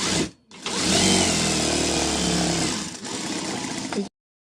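A sewing machine runs in one steady, fast whirring burst of about three and a half seconds, stitching straight along a folded fabric strip for a blouse hook band, then stops abruptly.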